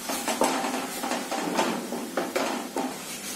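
Spice masala with coriander powder and salt is roasted in a pan, with a steady clatter of a spoon scraping and knocking against the metal and a soft sizzle underneath.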